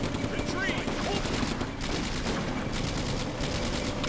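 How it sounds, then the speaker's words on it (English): Machine gun fire from a Sturmgeschütz assault gun in Combat Mission: Afrika Corps, steady rattling bursts at some distance under continuous battlefield noise, with voices speaking through it. "the Sturmgeschütz is focusing on just basically machine gun fire against our men"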